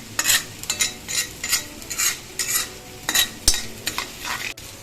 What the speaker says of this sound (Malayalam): ലോ ഫ്ലെയിമിൽ വെച്ചിട്ട് ഒന്ന് ഇളക്കി കൊടുക്കാം